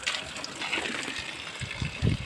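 Clean water poured outdoors in a rural setting for washing hands, a steady broadband splash with a few heavier splashes near the end, moderately close.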